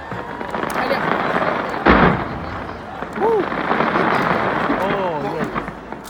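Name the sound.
New Year fireworks exploding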